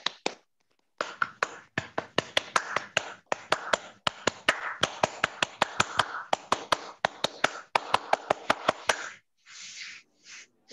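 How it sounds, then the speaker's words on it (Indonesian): Pramuka scouts clap a rhythmic pattern three times, sharp hand claps in quick accented bursts separated by short pauses, fairly close and crisp. "3 kali tepuk Pramuka."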